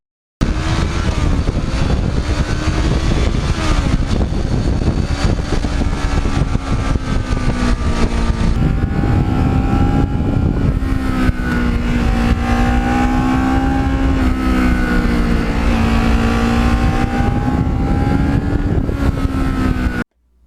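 A black Kawasaki Ninja motorcycle on Michelin tyres laps a racetrack, its engine droning loud and continuous with the pitch rising and falling through gear changes and throttle, and no voices.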